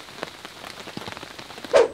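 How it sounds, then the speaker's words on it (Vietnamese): Rain patters steadily onto a campsite in light, scattered drops. A louder splash or gust comes near the end. "Nay mùa mưa tự nhiên cái nó mưa vậy các bạn."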